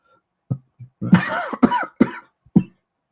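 A handful of sharp, close coughs, spaced unevenly with short gaps of silence between them.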